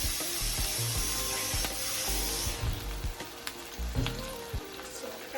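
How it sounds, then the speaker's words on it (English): Okra and garlic simmer in a pot for an ackee and saltfish meal, giving a steady close sizzle and bubbling with a few clinks and taps of a utensil against the pot. No one speaks. "So this is the okra with the garlic, just simmering down in the pot."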